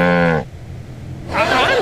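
A cow in the Sam and Max Season 1 adventure game lets out a loud, close, drawn-out moo, followed by a second burst of sound.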